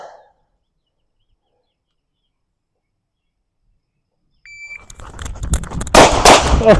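Gunshots fired at cardboard targets during a stress shooting drill: after a long silence, sharp close impulsive reports and a short burst of loud cracks at the end, with some movement noise.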